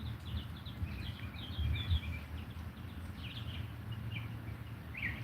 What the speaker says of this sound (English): And I'm hearing the birds.